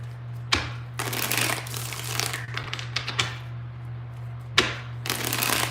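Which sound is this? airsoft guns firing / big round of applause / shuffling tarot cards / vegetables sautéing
shuffling tarot cards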